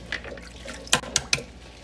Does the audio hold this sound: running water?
yes